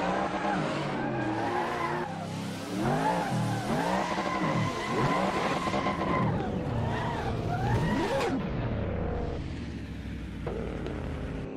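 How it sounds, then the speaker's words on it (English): A racing car engine revs and whines up and down through gear shifts while tires screech and skid, loud and continuous throughout. "hear this car."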